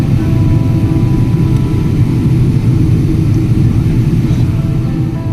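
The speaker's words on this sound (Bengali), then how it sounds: "বিমানটি ধীরে ধীরে যত নিচে নামতে শুরু করলো, ততই পুরো রোম শহর স্পষ্টভাবে দেখা যাচ্ছিল।" An Emirates airliner descending toward Rome, a loud, steady low engine drone filling the cabin without pause.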